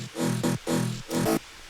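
Layered bass one-shot samples in an FL Studio remake, four short, deep electronic bass hits with pitch drops in an uneven rhythm, moderately loud and heard alone.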